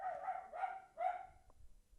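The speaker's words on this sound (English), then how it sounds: "And that's my dog in the background." A pet dog barks three times in quick succession, fairly clear but slightly distant, as if from another room, followed by a couple of faint short yips.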